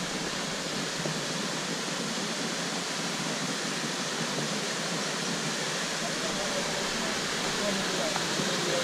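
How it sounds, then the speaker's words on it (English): Sungai Jerangkang waterfall in Pahang, Malaysia, roars as a steady, dense rush of falling water close by, unbroken throughout, with faint voices beneath it. "Right in front of our wonderful waterfall here"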